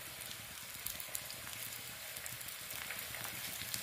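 Turmeric, red chili powder and coriander powder frying in a pan for South Indian rasam, giving a steady, fairly quiet crackling sizzle with small pops throughout and no talking.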